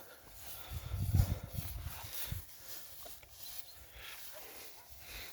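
Muffled hoof thuds and shuffling from draft horses and mares moving nearby at pasture, strongest early on, then fading to quieter rustling and scattered soft knocks.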